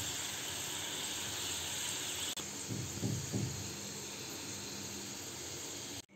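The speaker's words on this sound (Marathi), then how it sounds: "आता आपण बटाट्याच्या साली तळून घेऊ" Potato peels deep-frying in hot oil for a chips snack, a steady bubbling hiss close by with a few louder surges of sizzling partway through.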